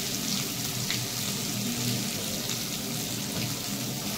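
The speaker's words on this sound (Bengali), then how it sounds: "আমি এবার একটু এতে আস্তে আস্তে কষিয়ে নেব।" Spices with salt and turmeric sizzle and fry in a hot pan, a dense, continuous crackling hiss heard close up and alone.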